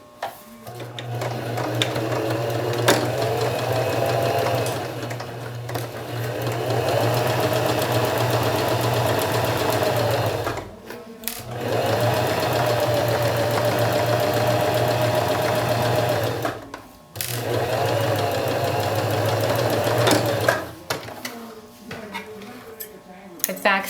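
A sewing machine runs steady stitches along a plain half-inch seam in three long sustained bursts with short pauses between, the motor humming and needle chattering loudly and close.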